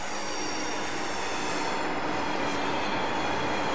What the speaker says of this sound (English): So I can do a train by.